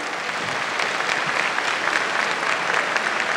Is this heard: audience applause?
yes